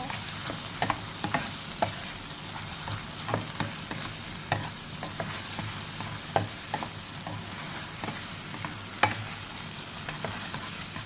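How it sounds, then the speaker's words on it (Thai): Fresh chilies and shrimp with garlic fry in a pan for a Thai garlic-chili shrimp dish, a steady close sizzle broken by frequent sharp scrapes and clinks of stirring, with no talking. "พริกสดใส่ลงไปเลย คนคนนะคะ"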